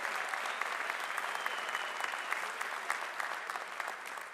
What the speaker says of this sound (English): Give me a round of applause for the arts and the humanities.